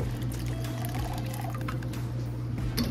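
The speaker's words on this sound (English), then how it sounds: "I'm also going to add in a small amount of some apple cider vinegar, about 1 cupful," Apple cider vinegar, about a cupful, pours into a sink of water for washing collard greens, a steady splashing gush continuing throughout over a low background hum.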